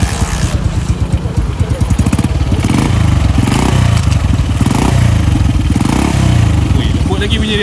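A standard, untuned Honda CG 125 motorcycle engine runs steadily up close with a loud, even putter, lifting into short revs as the throttle is blipped, with voices talking over it.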